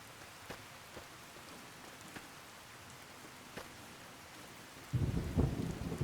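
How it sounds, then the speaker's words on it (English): Steady rain falling in the Fallout New Vegas video game, a soft continuous patter with a few faint ticks, swelling into a louder rumble near the end. "You just sleeping out here in the rain, huh?"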